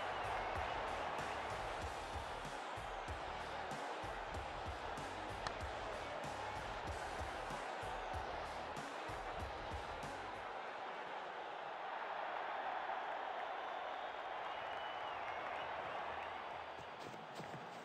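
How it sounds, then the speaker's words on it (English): In the WCC3 cricket video game, a crowd roars as a six is struck, a loud steady wash of cheering and clapping that thins out partway through and then swells back up. "Crowd's gone mad."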